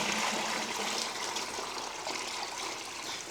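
Water poured into bread dough, a soft, continuous gushing trickle close by, fairly quiet and steady for a few seconds with no talking.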